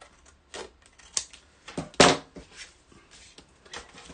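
A strip of paper trimmed off a craft page, giving a handful of sharp, crisp cutting snips and clicks at irregular intervals, close by, with no talking.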